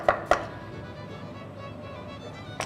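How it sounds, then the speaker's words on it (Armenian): A knife finely chops an apple core on a board: two quick sharp taps close together, a quiet pause, then one more chop near the end, fairly soft overall. "Խնձորից հանած այս միջուկը մանր կտրատում ենք։"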